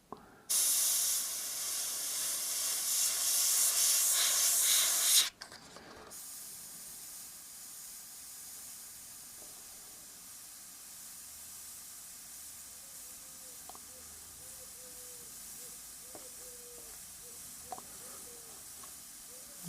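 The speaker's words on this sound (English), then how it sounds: "we can all hold a shield up or a stencil and spray through it like this" Spray paint hisses from a can through a stencil in one loud, sustained burst lasting about five seconds, then cuts off abruptly, leaving a quiet room with faint small clicks.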